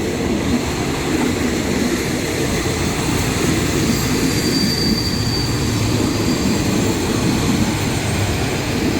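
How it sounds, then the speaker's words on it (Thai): Express freight train number 986 from Sungai Kolok rolling steadily past at close range, a loud continuous rumble of wheels and wagons with faint squeal, no talk over it. "ขบวน 986 นะครับ รถสินค้าหอวัตถุด่วนจากสุไหงโกลก"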